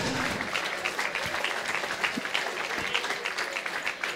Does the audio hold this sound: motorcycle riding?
no